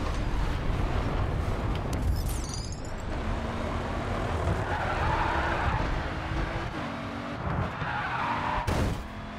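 In the racing game Grid 2, a car skids hard with squealing tires and roaring engine, then slides and crashes with a sharp impact near the end, loud and continuous.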